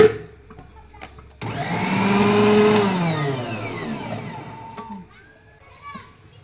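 A new mixer grinder starts with a loud, rising whine, runs for a couple of seconds and winds down. A voice talks before and after it.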